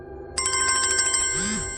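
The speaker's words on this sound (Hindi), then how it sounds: "तभी मेरे फोन की नोटिफिकेशन बेल बजी।" A phone notification bell rings out suddenly after brief quiet, a bright, sustained ringtone chime with a descending tonal sweep near the end, close and clear with no talk.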